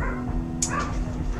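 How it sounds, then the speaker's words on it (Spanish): Dogs bark nearby, a short sharp burst of one or two yelps cutting across a steady low background hum. "¡Cállense, perros!"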